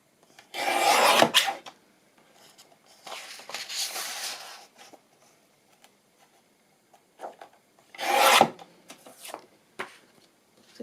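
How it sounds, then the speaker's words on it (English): A paper trimmer slices card for an envelope, giving a couple of rasping, scraping strokes with short pauses between them and scattered small clicks and taps, close and fairly loud. "I'm going to use my trimmer, because otherwise I'm not going to get it straight"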